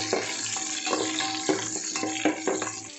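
Sliced onions and slit green chillies sautéing in a pan for coconut rice, a dense crackling sizzle with rhythmic stirring scrapes roughly every half second, close and fairly loud.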